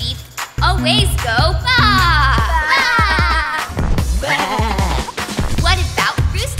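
Sheep bleating from the Superwings cartoon, imitated by sung, wavering voices over cartoon music, with several drawn-out bleats one after another, loud and close.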